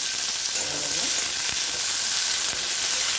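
Mango pieces fry in hot oil with a steady, loud broadband sizzle throughout, a couple of faint clicks and a brief stirring scrape near the start.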